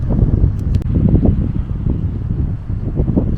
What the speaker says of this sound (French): Il fait très bon, mais il y a du vent.